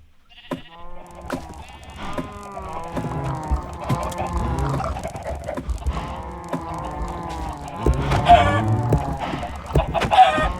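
A crowd of Minecraft chickens gives overlapping clucks and squawks that sound loud and close, with bleating sheep mixed in. The busy chatter swells and grows denser toward the end.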